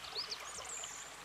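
Water rushes steadily at a waterfall, a continuous hiss with faint high chirps drifting above it, with no talking.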